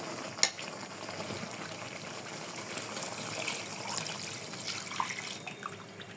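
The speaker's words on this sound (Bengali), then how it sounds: "চিকেনটা ভালোভাবে কষানো হয়ে গেছে এখন সিদ্ধ হওয়ার জন্য আমি দুধ দিয়ে দেবো" Milk is poured into chicken korma frying in a pot, giving a steady trickling, bubbling sizzle at close range with a single sharp clink near the start, and no voices.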